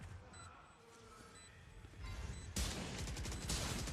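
Gunfire in the tactical shooter Valorant during a tournament playoff match on the Lotus map, a few shots under low caster-style background noise, then a sudden loud burst of dense crackling sound in the second half.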